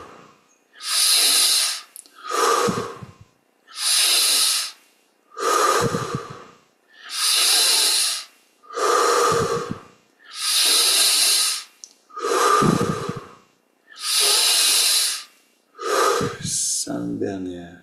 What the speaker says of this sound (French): on va prendre une douzaine de respirations à nouveau. Grande dès le début, au maximum d'amplitude.